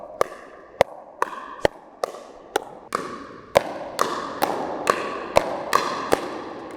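Pickleball paddles strike a ball in a quick volley, about a dozen sharp, evenly spaced pops close by that come slightly faster toward the end, with no talking.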